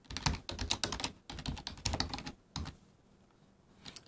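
Fingers type a password on a computer keyboard, producing quick close clicks in dense bursts that pause briefly, then thin out to a few final keystrokes near the end. No talking.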